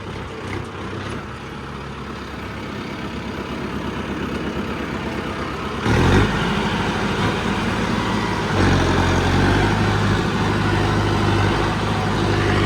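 A tractor engine running in third medium gear, a continuous diesel rumble that grows louder and rougher partway through and then holds steady.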